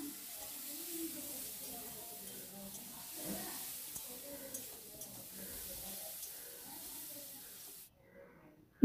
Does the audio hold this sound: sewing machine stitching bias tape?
no